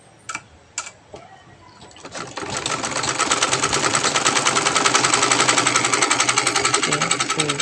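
A sewing machine stitches fabric for a turban, starting after a few clicks and running steadily with a fast, even, loud mechanical rhythm that builds and holds to the end.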